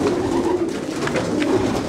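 Racing pigeons coo steadily in a busy Belgian pigeon centre holding loft, soft repeated low calls overlapping at close range against a constant background hum.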